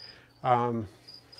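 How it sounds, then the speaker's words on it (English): Crickets in an indoor room used for breeding them give a thin, steady high chirping that runs faintly in the background, broken by a short louder voiced sound in the middle. "You can probably hear the crickets in this room."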